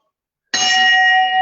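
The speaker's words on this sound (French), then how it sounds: "C'est une sonnette de Dieu pour lui prévenir que nous sommes arrivés." A temple bell at a Jain temple in Bikaner is struck once, close and loud, sounding a sharp onset followed by a clear sustained ring.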